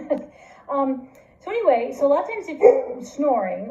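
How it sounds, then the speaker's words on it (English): A pet dog barks and yips in short bursts, several times in a row and fairly close, while a person keeps talking over it. "And so that's my dog barking."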